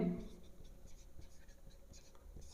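Faint scratching of a pen or marker writing a maths solution by hand, soft irregular strokes in a quiet room.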